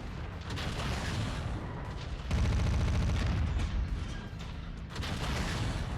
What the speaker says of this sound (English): Just look at the stream of missiles coming down on his face.